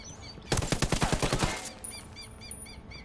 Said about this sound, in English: Oopsie, I didn't mean to shoot that guy in the leg.